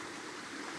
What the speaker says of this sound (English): There's the river here, and then another walk up that way.